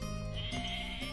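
A goat bleats in the Age of Mythology strategy game, a single wavering call close and clear over steady in-game background sound, with no talking.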